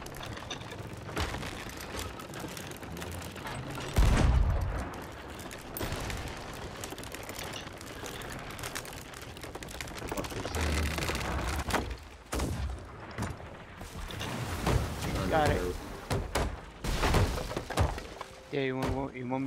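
Ship cannons fire in the pirate game Sea of Thieves during a sloop arena battle: heavy booming shots and crashing impacts break out at intervals beneath steady talk from players.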